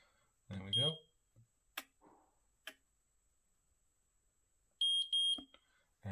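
Electrical tester emitting short high beeps while its test button is held and probes touch line and neutral during a flat rewire, first a single beep, later a rapid cluster of repeated beeps, near and clear between brief speech and clicks.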